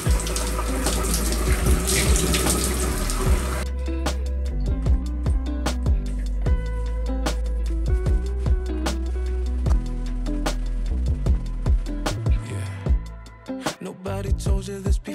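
Shower water running in a bathroom, a steady hiss of spray at first, then irregular splashes and drips as the flow is interrupted, fairly loud and close.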